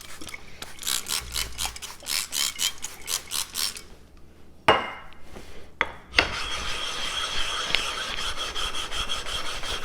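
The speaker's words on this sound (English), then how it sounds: "I am using the NL4 diamond lapping plate to get a slurry and make sure that the stone is clean" Knife being sharpened on a whetstone with an NL4 diamond lapping plate raising slurry, giving a rhythmic series of close rubbing strokes, then a pause with a couple of scrapes, followed by steady continuous rasping.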